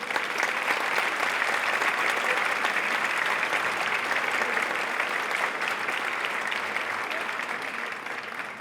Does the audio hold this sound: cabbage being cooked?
no